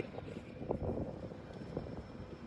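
Aircraft at Bengaluru airport give off a steady, broad engine roar at moderate distance, with a faint high whine running throughout and slight swells in loudness, and no voices.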